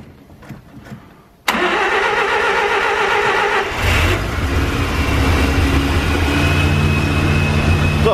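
A Mazda RX-7 rotary engine cranks briefly and fires, then settles into a loud, rough, uneven idle with a blip of revs, recorded up close.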